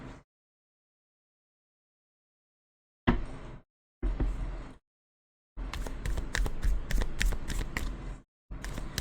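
Tarot cards are shuffled for a pick-a-card reading in short bursts separated by silence, ending in a longer riffling run of quick papery flicks, close and alone.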